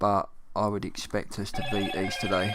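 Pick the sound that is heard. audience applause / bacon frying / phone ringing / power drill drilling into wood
phone ringing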